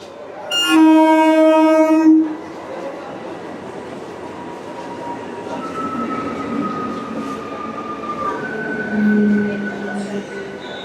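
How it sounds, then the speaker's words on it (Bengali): A local train arrives at Dum Dum station in Kolkata: a loud horn blast, then rolling carriages, and long squealing wheel tones as it slows, with faint voices in the background. "ট্রেন ধরে আমরা ফাইনালি পৌঁছে গেলাম দমদম স্টেশনে।"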